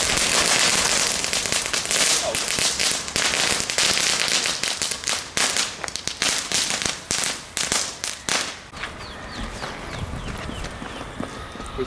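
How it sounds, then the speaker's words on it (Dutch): Category 1 consumer fireworks and firecrackers going off in a dense, loud barrage of rapid crackling bangs and pops, thinning out toward the end into scattered sparse crackles. "Wat een ding, categorie 1 vuurwerk"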